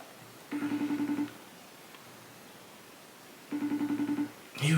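An outgoing phone call rings out on the line, two bursts of a trilling ring tone about three seconds apart, clear and close over faint hiss, with no one speaking.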